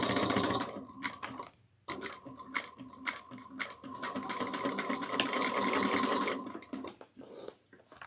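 A sewing machine backstitches a seam on a bucket bag in rapid mechanical chattering runs, pausing briefly before starting again and slowing near the end, close and steady with no talking.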